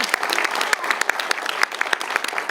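Audience applause at a talk in Yosemite National Park, a dense, even wash of many hands clapping at once, close and steady with no break for the whole stretch.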